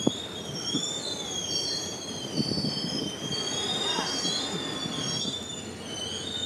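A train rolls by with high, sustained wheel squeals over a rumbling, clattering undertone, with a few faint voices in the background.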